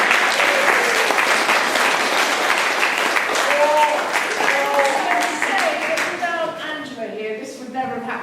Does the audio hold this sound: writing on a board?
no